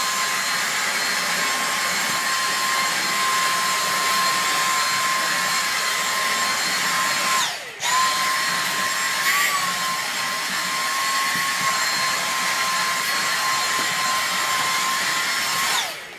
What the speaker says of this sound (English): let me just suck all this dirt up again here